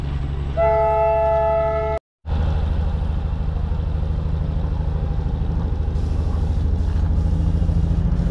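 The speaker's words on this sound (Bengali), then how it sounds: "সামনেই দেখুন টয় ট্রেন আসছে" Darjeeling toy train passing close by: a sustained multi-tone horn blast, a brief cut, then a loud steady rumble of the passing carriages that continues to the end.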